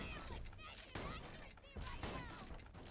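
Jakobs shotgun in Borderlands 2 firing three sharp, punchy blasts in quick succession, layered over busy game sound with tonal effects in the background.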